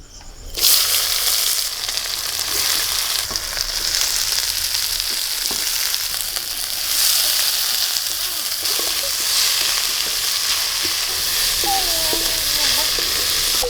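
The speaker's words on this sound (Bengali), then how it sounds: "এবার দিয়ে দেবো পেঁয়াজ কুচি" Chopped onion sizzles steadily in hot oil with bay leaves and dried red chillies, a loud continuous frying hiss with occasional stirring scrapes, close up, no talking, ready for cooking goat meat.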